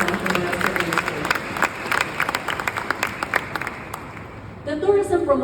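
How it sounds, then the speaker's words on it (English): Audience applause for the Intramuros administration at a Department of Tourism event in the Philippines: steady mid-distance clapping for about four and a half seconds, then it thins out as a voice speaks over the tail. "Let's please give a round of applause to the Intramuros administration."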